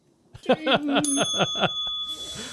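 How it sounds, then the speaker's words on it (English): A bell sound effect played on a podcast, a bright bicycle-style bell trilled in a quick run of about eight rapid dings followed by a sustained ringing tone, loud and close with no talk. "There should be like a bell."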